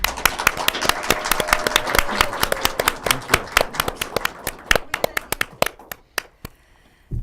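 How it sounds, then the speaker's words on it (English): An audience claps for a guest on a talk show, with dense, loud, rapid applause that thins to a few scattered claps and fades near the end. "let's give a really big round of applause for Joseph DOnofrio."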